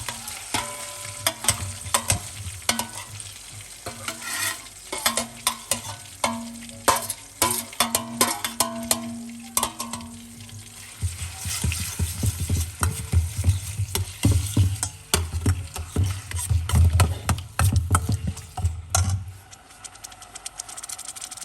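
Ground spices frying in a little oil in a pot, a steady sizzle with frequent sharp stirring scrapes, the frying growing louder and fuller in the second half.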